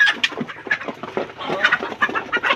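Fayoumi and Tiger chickens cluck and chatter close by, a busy run of short overlapping calls with no talk.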